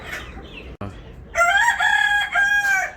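A rooster crows loudly and close by, one long drawn-out call after a brief soft cluck.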